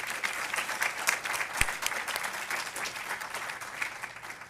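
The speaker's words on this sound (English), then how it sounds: "We'll give them a round of applause if we could." An audience at an alumni awards event claps for award recipients, a sustained round of many hands with a few sharper nearby claps standing out, tapering slightly toward the end.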